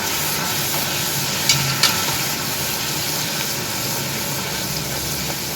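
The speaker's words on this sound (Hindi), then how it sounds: "इस मसालों को हम भून लेंगे इसमें" Whole spices, cloves, cinnamon and bay leaf, fry in oil in a pot for beef achari, giving a loud, constant sizzle with a couple of brief clinks of stirring.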